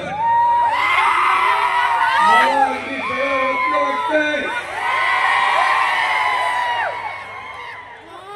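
A large crowd cheers, whoops and shouts at a political election rally, with many overlapping voices rising and falling in loud waves throughout and people talking among the din.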